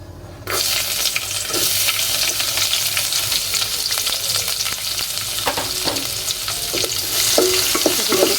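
Chopped onion and garlic drop into hot oil already frying with bay leaf, garam masala and dried chili, bursting into a loud, steady sizzle with occasional stirring scrapes.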